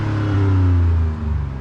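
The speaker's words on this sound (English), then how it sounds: "You can still hear that V6 raspiness a bit higher in the rev range" A 2023 Ford Ranger Raptor V6 revs in quiet mode, a steady close engine drone that swells and holds for about a second before easing back, with no talking.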